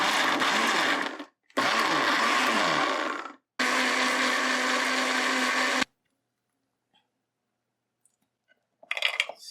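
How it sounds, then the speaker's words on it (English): A blender whirs loudly in three bursts with short pauses between, blending garlic, herbs and water, then stops into silence before a brief clatter at the end. "we're going to give this a little blend up"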